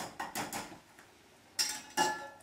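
A lid goes onto a pot of simmering creamy smoked gouda grits, a few quiet metallic clinks and taps followed by two sharper clanks of the lid settling.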